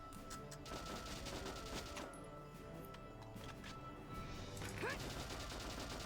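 Soldiers fire rifles at a sandbag during a first skirmish in Valkyria Chronicles, a steady stream of quiet rapid gunshots with rattling bursts and game effects layered over background music.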